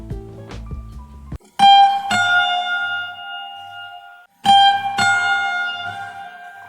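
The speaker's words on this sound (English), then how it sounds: "this guitar slide, which sounds something like this" A guitar slide sent through a guitar mixer chain and panned slightly to one side rings out in two bright, sustained notes, each struck sharply and left to decay, after a brief lower, softer passage.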